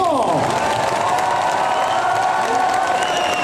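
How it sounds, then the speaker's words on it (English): An audience at a Paris fan event with Elijah Wood bursts into loud, continuous clapping mixed with cheering and a few shouts, filling the room throughout. "Faites un tonnerre d'applaudissements!"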